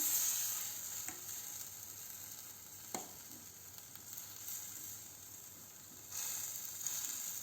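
Grated carrot stirred into a girmit puffed-rice mixture, producing a soft continuous rustling scrape with a few louder scoops, close and quiet, with no voices.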